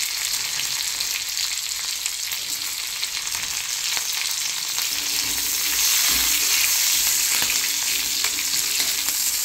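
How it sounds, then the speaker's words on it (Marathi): Green chilies sizzle in an iron wok with leafy greens of red amaranth, a loud, steady frying hiss with occasional stirring scrapes that intensifies partway through. "त्याच्यात आपण टाकूयात हिरवी मिरची."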